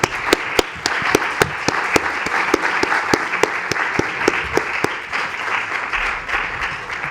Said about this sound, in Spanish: que un aplauso primero antes de...